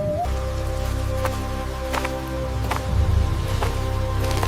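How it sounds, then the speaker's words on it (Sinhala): Heavy rain falling in a forest, an animation sound effect for a children's story, heard as a steady wash of rainfall with a low rumble underneath and occasional sharper drips. "කැලේට මහා වැස්සක් වහින්න පටන් ගත්තා."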